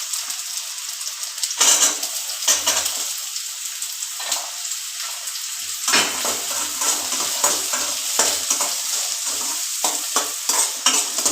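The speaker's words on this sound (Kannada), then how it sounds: "ಅದೊಂದು ಸ್ವಲ್ಪ ಫ್ರೈ ಆದ ನಂತರ ಈರುಳ್ಳಿ ಹಾಕ್ಕೊಳ್ಳಿ." Onions frying in a pan for egg sambar, stirred with a utensil: a steady close sizzle with repeated scraping and clattering stirs throughout, and no talking.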